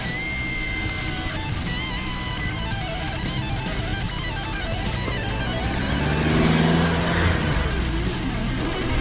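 Car pulling away with a continuous, fairly loud engine drone and road noise that swells and rises in intensity partway through.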